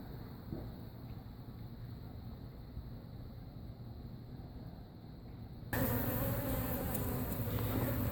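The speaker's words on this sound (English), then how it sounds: "I'm not going to look any further back until I vacuum some of these bees, because they're a tad feisty" Honeybees inside the wall of a mobile home in Lakeland, Florida, make a steady, dense buzzing hum that suddenly grows much louder and brighter near the end, as if close up or exposed.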